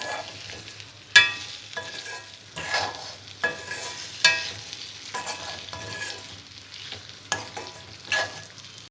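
Mushrooms frying in oil in a pan for a spicy mushroom pepper fry. A soft sizzle is broken by several sharp, close stirring scrapes spaced a second or so apart, with no voices.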